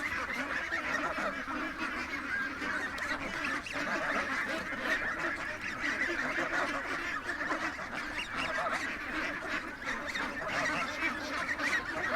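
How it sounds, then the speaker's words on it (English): A Chinese goose honks repeatedly from nearby, harsh honking calls layered with other fowl sounds, continuous at a fairly low level without speech. "we got a goosely too. And he's a Chinese goose too"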